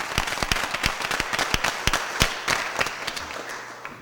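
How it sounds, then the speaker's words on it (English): At a board of aldermen meeting, an audience gives a round of applause, with many sharp hand claps crackling densely at moderate distance and fading slightly toward the end, with no talking over it. "So let's give them a big round of applause."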